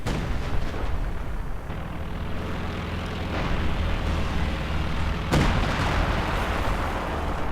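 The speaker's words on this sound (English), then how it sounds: "Heavy artillery fire going in from Vesat here, already 12 kills." Heavy artillery pounds away in the Company of Heroes video game during a 2v2 match with Tiger tanks. It is a dense, steady roar of booming shellfire and rumbling engines that goes on throughout, with a sharp burst near the end.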